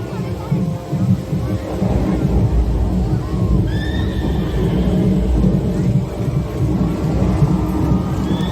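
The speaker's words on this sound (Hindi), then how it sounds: "अश्वमेध यज्ञ में छोड़ा उनका घोड़ा इधर ही चला" A horse neighs through the loud soundtrack of an outdoor water and light show at Bagh-e-Bahu fort in Jammu, with a narrator's voice and dense rumbling music around it; a short whinny stands out midway.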